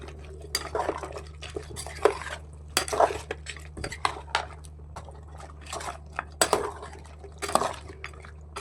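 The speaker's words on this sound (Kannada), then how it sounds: "ಮತ್ತೊಂದು ಬಾರಿ ಎಲ್ಲನೂ ಚೆನ್ನಾಗಿ ಮಿಕ್ಸ್ ಮಾಡಿ" A spoon stirs goat head curry with tomato paste and added water in a pressure cooker, giving irregular scraping and metallic clinks against the pot, close and moderately loud, with no talking.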